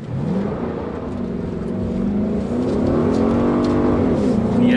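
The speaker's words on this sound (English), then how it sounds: "That's quite a lot of wheel spin coming out of there." A 2017 Ford Mustang GT V8 accelerating hard with wheel spin on a wet road, traction control on; a loud, steadily rising engine roar with a rasping exhaust note fills the whole stretch, swelling toward the end.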